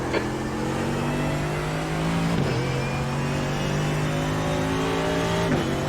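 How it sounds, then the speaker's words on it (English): Engine of a race car in iRacing rolling out of the pit lane at Mount Panorama, a steady sustained drone with a slight pitch shift midway, loud and continuous with no talk. "There's a car leaving the pit lane."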